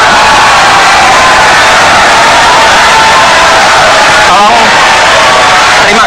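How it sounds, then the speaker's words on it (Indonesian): A large audience at the 2014 Indonesian presidential and vice-presidential debate roars with loud, continuous cheering and applause that fills the space and stays dense and steady throughout. "Terima kasih tepuk tangannya."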